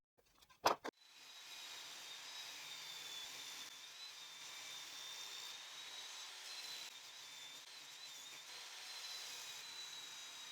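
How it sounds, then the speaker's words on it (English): A power saw rips old wooden boards to a 6.5 cm width, a steady whining cut that runs on for about ten seconds after a few short knocks at the start, with no one talking. "I will start by cutting these 4 pieces on both sides to make them clean and straight"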